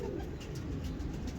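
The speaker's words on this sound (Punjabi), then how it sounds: "ਅਸਲੀ ਦੇਸੀ ਕਬੂਤਰ" Low, soft cooing from Jonsiry desi pigeons, a brief continuous murmur heard up close with no one talking.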